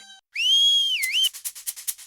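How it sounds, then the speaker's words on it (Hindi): A person whistles a single long sustained note that slides down and back up, followed by a quick series of short, sharp whistle bursts, close and loud with no talking. "अरे बावले, सीटी क्यों बजा रहा है?"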